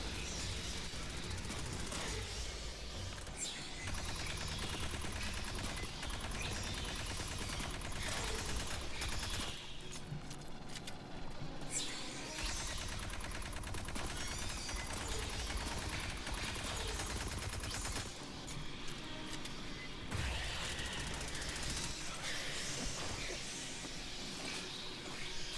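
Sustained machine gun bursts in the sci-fi shooter Aliens: Fireteam Elite, rapid rattling fire with brief pauses, mixed with game effects and music over most of the stretch, no talk.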